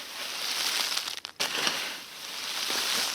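Charcoal coals in a homestead barbecue crunching and crackling with a glassy, brittle sound, a steady close crumbling texture with a brief pause partway through.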